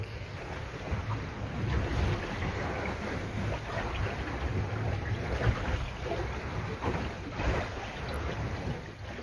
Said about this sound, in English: The sweet sound of no engines and wind power.